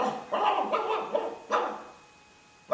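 A voice imitates a dog barking at a border crossing, giving several short, loud woofs in a quick burst, then a pause and one more bark, near and clear.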